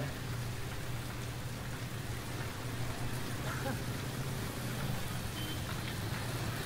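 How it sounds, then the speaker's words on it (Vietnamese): Heavy rain falling at Ben Thanh market in Ho Chi Minh City, a steady dense hiss of downpour with faint traffic rumble beneath, continuous throughout. "thú vị nhất là khi trời nó mưa đó mình à, đứng ngắm mưa"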